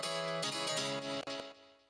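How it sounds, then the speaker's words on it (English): Dry piano from a house-music production, played without the Effectrix effect plugin, sustained chords ringing clearly and closely on their own. "As you can hear, without the Effectrix the piano sounds like this."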